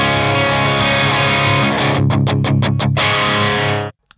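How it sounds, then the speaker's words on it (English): Electric guitar with a humbucker pickup driven through a Victory Kraken MKII amp into mild breakup, a sustained loud chord followed by a run of rhythmic choppy strums before a sudden stop. "It's going to break up a bit more with the humbucker."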